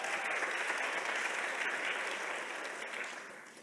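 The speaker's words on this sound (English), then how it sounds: "Give her another round of applause" An audience at a summit plenary gives a round of applause, a dense, continuous wash of many hands clapping at steady volume that eases slightly toward the end.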